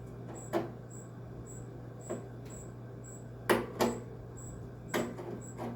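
A screwdriver works old slotted screws on a 1985 WCI air conditioner, a few scattered scraping clicks and knocks close by over a low steady hum, with no talk.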